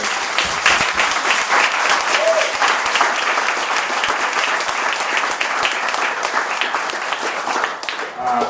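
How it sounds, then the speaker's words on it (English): Sustained, loud applause from an audience fills the whole stretch, a dense steady wash of clapping for Father Britto Berchmans at the close of a Shot of Theology talk, with no voices standing out. "So one more round of applause."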